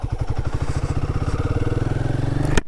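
A Royal Enfield Guerrilla 450 motorcycle engine laboring up a steep mountain road, a steady close thumping beat that quickens slightly, ending in a sharp clack.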